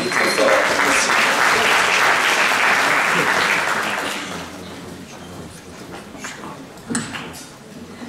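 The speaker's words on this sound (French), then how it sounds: "On l'applaudit très fort." An audience at a Mediterranean regional programme opening applauds loudly for about four seconds; the clapping then fades into a quieter room with a few scattered knocks.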